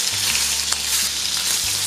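A second batch of prawns fries in hot oil with a dense, loud, continuous sizzle, with faint stirring taps heard close up.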